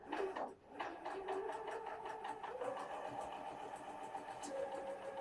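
Janome MC 9480 sewing machine stitching at standard presser foot pressure, a rapid close mechanical whir running steadily for a few seconds with slight changes in pace.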